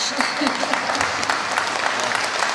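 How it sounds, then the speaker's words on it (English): At a school's 100th anniversary celebration, an audience claps in a brief, lively burst with a few claps standing out sharply from the dense patter, and faint voices mixed in. "Hold your applause while we hear the story"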